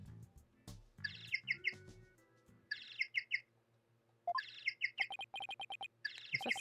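A bird-chirp phone ringtone from the Ace Attorney video game plays in repeated bursts of bright tweeting chirps, with quick rhythmic trills and brief pauses between phrases, alone and with no talking.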